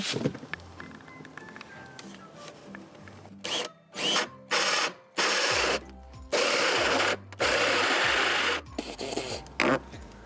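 A power drill bores holes in a shed, several bursts of high-pitched whirring of about a second each, separated by short pauses and ending in a quick run of shorter bursts.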